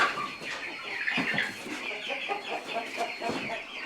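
Several American Bresse chickens cluck in quick, scattered bursts, close by, with a busy outdoor background.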